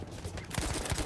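A quick burst of rifle gunfire in the World War I shooter game Battlefield 1, short sharp reports packed into about a second of combat noise.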